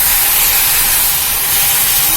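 Chukka keerai greens sautéing in a hot pan, a loud, steady broadband hiss and sizzle that runs unbroken throughout, with no voices.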